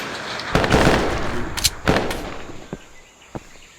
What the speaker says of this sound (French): Hop, grenade dans sa gueule, regarde.